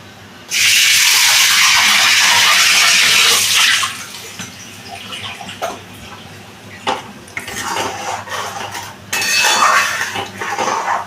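Cashew paste is stirred into a kofta curry in a pan, with a loud rush of liquid poured in at the start, then clattering scrapes and knocks of a spoon against the pan, no talk.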